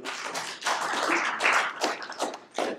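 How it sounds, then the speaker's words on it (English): An audience claps for a participant at a Christmas talk, giving a short, uneven burst of handclaps in loose clusters that rise and fall over a few seconds. "Give Jono a clap"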